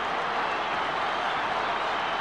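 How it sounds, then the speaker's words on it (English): Roaring football crowd at the 1981 Escort Cup Grand Final between Carlton and Essendon, a dense, steady wall of cheering and applause right after a goal, loud and unbroken throughout. "Listen to that crowd."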